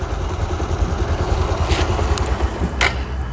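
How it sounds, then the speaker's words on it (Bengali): A used motorcycle's engine idles at a second-hand bike dealer, a steady low rumbling hum that holds even throughout, with a couple of brief sharper noises over it. "ইঞ্জিনের সাউন্ড স্টার্টে আছে"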